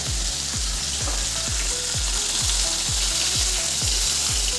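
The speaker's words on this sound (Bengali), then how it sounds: "আগে মাথা দুটো ভাজা করে নিই" Two fish heads fry in hot oil seasoned with panch phoron, giving a loud, steady sizzle and crackle throughout, with a regular rhythmic scraping of a spatula stirring the pan and no talking.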